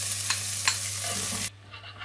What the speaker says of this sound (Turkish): Yağda soğanımızı biraz kavuruyoruz.